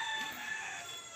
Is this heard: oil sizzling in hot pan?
no